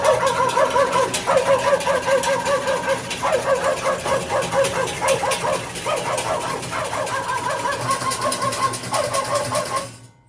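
A homemade gatekeeper robot plays a recorded dog barking sound in repeated yapping bursts with a slight mechanical whine under them, running steadily for about ten seconds before cutting off abruptly.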